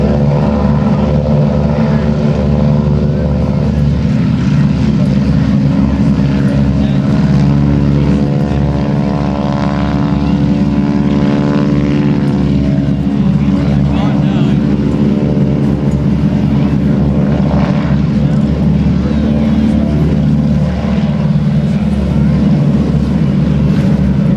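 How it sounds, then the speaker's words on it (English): Loud, throbbing Pratt & Whitney piston engines on vintage aircraft spool up, their droning propeller hum building and holding with a rich low rumble. "Let's listen to the sound of these Pratt & Whitney engines as they spool up."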